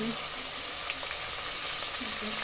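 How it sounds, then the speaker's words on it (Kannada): Ginger, garlic, mint and coriander frying in hot oil give a continuous, even sizzle that is close and steady throughout the brief moment. "ಪುದೀನ ಕೊತ್ತಂಬರಿ ಚೆನ್ನಾಗಿ ಫ್ರೈ ಆಗಲಿ"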